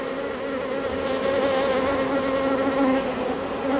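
Dense, steady buzzing of honeybees close by as brood frames are shaken out of a hive, with a droning hum that swells slightly and carries on without pause.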